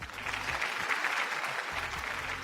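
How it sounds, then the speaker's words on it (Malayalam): Studio audience clapping for a game show contestant who has just won a cash prize, steady dense applause at close range with a faint low murmur underneath. "നല്ലൊരു കൈയടി"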